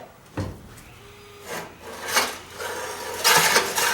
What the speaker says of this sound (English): now pull the rope just a little bit